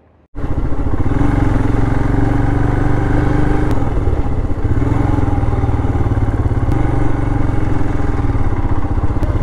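A motorcycle engine idles steadily and loudly up close on a snowy road in Manali, starting abruptly and holding a constant rumbling tone throughout.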